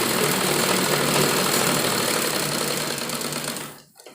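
A sewing machine stitches a hem on a baby dress made from a dupatta, giving one continuous loud mechanical whir up close that slows and stops near the end, with no voices.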